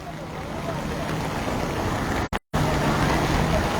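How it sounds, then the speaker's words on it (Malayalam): Strong water rushing down a hillside after a landslide in Kozhikode, a steady loud roar with wind buffeting the microphone, briefly cut out midway. "ആ മലയുടെ അവിടുന്ന് ഇങ്ങനെ ശക്തിയായിട്ട് ഇങ്ങനെ വെള്ളം ഒലിച്ചു വരുന്നോണ്ടിരിക്കുകയാണ്"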